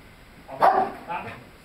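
A police K9 dog gives one loud bark followed by a softer second bark, close by, while a handler talks over it.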